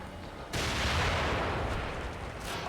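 A grenade in the survival horror game The Evil Within erupts with a sudden broad blast that sustains as a rumbling roar for a couple of seconds before easing off.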